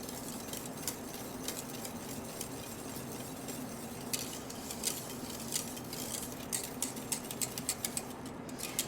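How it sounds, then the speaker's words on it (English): A whisk works through starch-thickened custard in a pot as it comes to a boil, a close, steady swishing scrape with quick ticking clicks against the pot that grow sharper and more frequent toward the end, over a low, constant hum, with no voices. "Continue to whisk."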